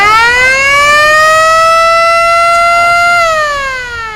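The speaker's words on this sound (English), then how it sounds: "you've got more of an authentic siren that would have gone with the ambulance or the fire." A loud wailing siren on a movie replica emergency vehicle, in the style once used on ambulances or fire engines, rises in a long sustained tone and then begins to fall, heard up close at a comic convention.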